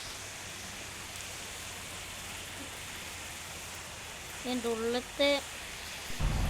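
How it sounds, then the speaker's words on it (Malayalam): A steady hiss of rain in the game Bus Simulator Indonesia falls throughout, and near the end someone speaks briefly over it. "മഴ പെയ്യുന്നുണ്ട്."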